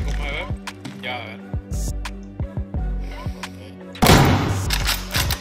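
An AS-85 rifle fires a series of short, punchy shots in the video game Deadside. A louder burst comes near the end, while players talk over the gunfire.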